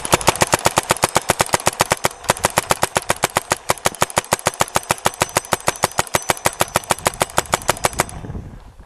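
An Azodin Kaos paintball gun firing in a fast, steady string of sharp pops, close and loud, dozens of evenly spaced shots for about eight seconds before stopping abruptly.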